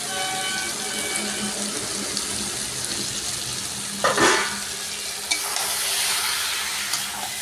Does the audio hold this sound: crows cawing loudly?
no